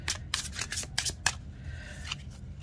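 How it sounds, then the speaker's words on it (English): A tarot card deck is riffled and shuffled in quick bursts of crisp papery flutters and snaps, close and fairly quiet, followed by a softer slide of cards. "The shuffle's pretty good."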